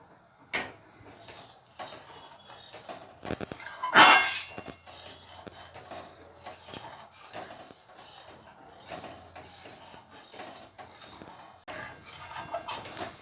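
A spatula scrapes and taps against a pan while stirring thickening milk cake mixture with ghee, making irregular metallic clinks and scrapes, mostly faint with a few sharper knocks.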